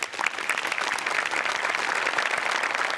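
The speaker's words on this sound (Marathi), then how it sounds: "तुमच्या दोघांसाठी टाळ्या व्हायला पाहिजे." Studio audience applauding on a Marathi comedy show, a dense, steady burst of clapping from a crowd that fills the clip at even loudness.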